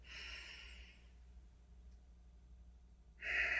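Deep intake of breath during a guided breathing exercise, a soft airy inhale at the start, a quiet pause, then a louder, sharper breath sound near the end.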